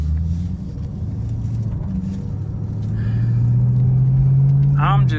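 A Chevrolet Camaro SS engine drones low and steady while the car cruises through city streets late at night, heard from inside the car. The engine pitch rises toward the end, and a brief higher chirp follows.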